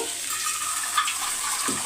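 Water splashes and trickles steadily into a pan for a couple of seconds, fairly close, with no one talking.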